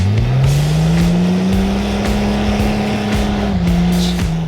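A Jeep XJ and a Toyota Land Cruiser strain against each other on a doubled kinetic rope in a tug of war, both engines droning loudly and steadily at high revs, with a slight dip in pitch near the end and no talking.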